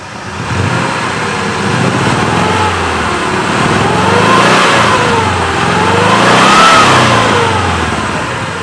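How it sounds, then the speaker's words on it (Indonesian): A 2004 Suzuki Futura Realvan engine revs up loudly to 3000 RPM and holds a steady high whine, rising and falling slightly in pitch, close and continuous without talk. "sekarang kita coba geber, kita dengerin suaranya kalau kita di RPM 3000"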